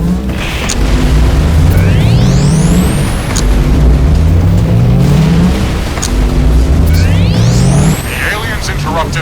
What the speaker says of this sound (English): Launching surface-to-surface heavy missiles at alien core.